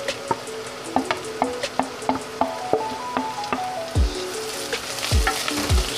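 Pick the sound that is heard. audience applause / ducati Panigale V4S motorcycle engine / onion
onion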